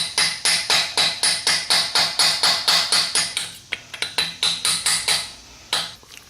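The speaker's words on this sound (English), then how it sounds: "give it a couple more smacks just around the edge, just to make sure that's even all the way around" A flathead screwdriver smacks around the edge of a steering head bearing race on a 1978 Kawasaki KZ750, a fast run of about two dozen sharp metallic hammer blows, close and clear, with a brief pause partway through.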